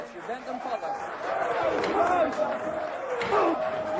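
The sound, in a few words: crowd reacting disapprovingly to referee's decision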